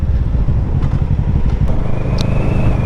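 A motorcycle riding along an open road, a steady, loud low engine rumble mixed with buffeting wind noise that runs unbroken throughout, with no voices.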